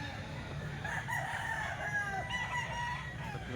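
Rooster crowing at a cockfighting event in the Philippines, with repeated crows rising over a steady background of crowd noise and chatter while an announcer calls out bets.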